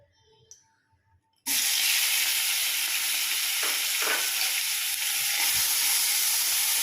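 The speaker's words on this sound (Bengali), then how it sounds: "চিংড়ি মাছটাকে আমি একটু ভেজে নেব।" Prawns frying in oil in a pan: after a quiet start, a loud, steady sizzle bursts in at once and keeps on without a break, close and bright, with no talking.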